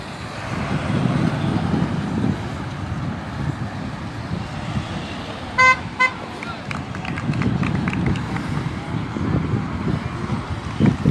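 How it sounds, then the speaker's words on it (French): Car horns honk at a citizens' street rally for freedom, a couple of short toots amid steady traffic rumble and crowd murmur, with voices talking in the background. "ça klaxonne, ça soutient ou pas"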